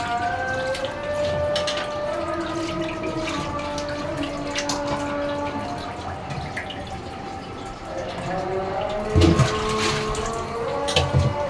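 Raw meat is washed by hand in a basin of water for a home lunch, with steady dripping and splashing close by over a constant tonal background and a brief louder splash near the end.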